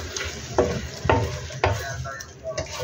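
Spring onion and chili are stirred into salted egg shrimp in a hot pan, a steady sizzle broken by several scraping stirs of the spatula.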